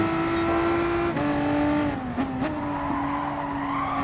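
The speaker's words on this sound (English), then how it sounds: "I'm pushing more on the way into the corners, I've got a lot more tyre squeal." A VW car braking hard into a corner at the Nurburgring GP circuit lets out a sustained, high-pitched tyre squeal that wavers and dips over a steady engine drone, close and continuous throughout.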